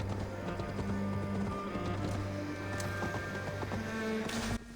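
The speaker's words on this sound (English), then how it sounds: "That's the sound of horse hooves." Horse hooves galloping in Assassin's Creed Valhalla, a steady rhythmic clip-clop that runs continuously under sustained game music tones.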